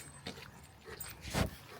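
A dog on a forested hiking trail in Boring, Oregon gives a couple of soft, brief whimpering yelps, the second a little louder, against faint outdoor background noise with no talk.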